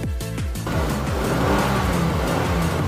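A Toyota Alphard Executive Lounge with a 3.5 V6 engine revs in a few quick blips, then holds a steady, rising drone, close and clear with no talk.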